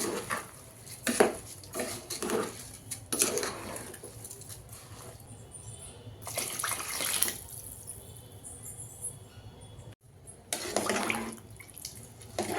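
A spoon stirs rice and tomato pulao in a metal pot, giving bursts of clanking and scraping against the pot with short pauses between strokes and a soft watery patter underneath.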